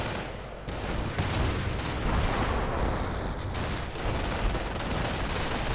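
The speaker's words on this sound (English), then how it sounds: "MG adding in there. 30 caliber there and another 30 caliber on the right flank." Dense battle sounds from Company of Heroes, with bursts of .30 caliber machine gun fire and other gunfire and explosions, a continuous loud fusillade without pauses.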